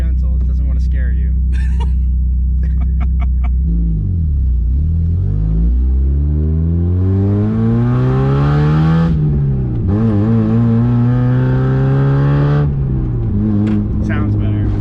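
A Mazda MX5 Miata engine cranks, catches and idles, then revs up through several loud rising and falling sweeps close by, with people talking around it.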